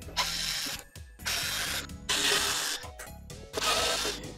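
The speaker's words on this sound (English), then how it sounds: "I'm going to start by removing the side panel screws here." A power driver unscrewing the side panel screws of a Creality CR-10S Pro 3D printer, three buzzing whirring runs separated by short pauses, close and loud with no speech.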